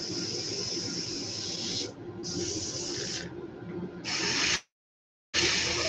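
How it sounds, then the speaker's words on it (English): An airbrush sprays orange paint over a white coat on a Brad's Super Bait Cut Plug fishing lure in several close, steady hissing bursts separated by short pauses, with no talking. "I'm just spraying over the white that I just did with my orange"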